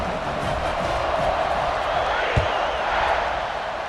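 A stadium crowd roars and cheers after a touchdown in EA Sports College Football 26, a dense, loud, sustained wash of voices with a single sharp thump partway through.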